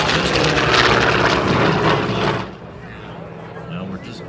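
A Douglas Skyraider propeller aircraft at the Miramar Airshow, a loud rumbling engine roar passing close, then fading as an announcer talks over it.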